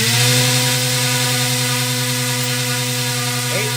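An RC motor spinning a 12-inch claw propeller on a thrust test stand, making a loud, steady high-pitched whine that holds constant pitch, with a small wavering near the end.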